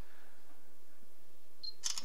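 Galaxy S2 phone camera snapping a photo with a crisp electronic shutter click near the end, after a quiet stretch of faint room hiss.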